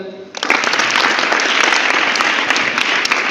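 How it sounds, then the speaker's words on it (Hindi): Audience applause at a Vedic school gathering bursts in abruptly after a brief moment, then holds as steady, dense clapping to the end. "फिर बजाओ ताली"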